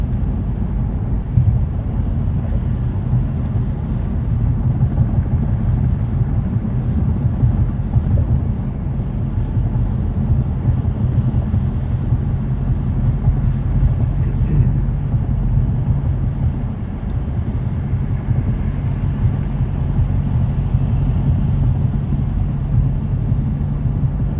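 A 2021 Dodge Challenger R/T gives a steady, loud engine rumble with a deep low drone, continuous throughout as the car keeps moving, with no voices over it.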